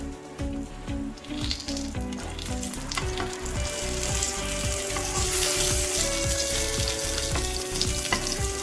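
Chorizo and smoked sausages fry in a pan, a steady bright sizzle with crackling pops and occasional stirring scrapes, close and continuous with no talking.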